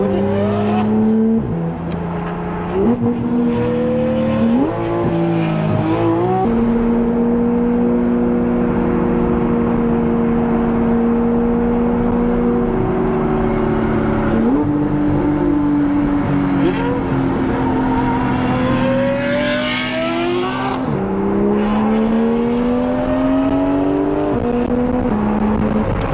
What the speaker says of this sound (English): this will be the first time me hearing this exhaust setup